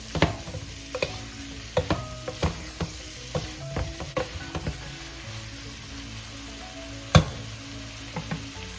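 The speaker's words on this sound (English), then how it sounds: "we start sauteing our pork here and aromatics together" Pork and aromatics sautéing in a pan for pork sinigang, with a low steady sizzle under frequent spatula clacks and scrapes on the metal, one louder knock near the end.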